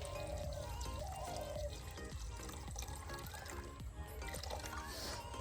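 Water poured into a cooking pot with lightly salted leaves, a soft continuous trickle and splash heard faintly from nearby against a busy background.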